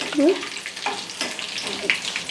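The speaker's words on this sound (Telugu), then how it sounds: "కరివేపాకు కూడా వేసుకుంది ఇది కూడా కొంచెం రెడ్గా అవ్వగానే" Curry leaves crackle and fry in hot tempering oil for a raw mango and coconut chutney, a brief close sizzle with a few sharp pops and no voice.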